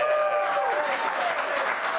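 Steady, dense audience applause fills the whole stretch at an even level, a broad wash of clapping from a large crowd with no pauses.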